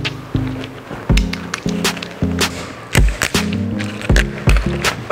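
Sharp, irregular cracks and hard knocks of the back of a knife striking a live jumbo lobster's shell, repeated several times over a background hum.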